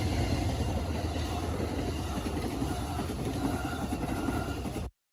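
A Zephyr passenger train pulls away on the rails with a continuous rumble and rolling clatter, heard at moderate distance and fairly quiet.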